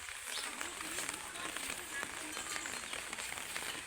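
Steady morning rain falls on a road, making a dense, even hiss that lasts throughout at moderate distance.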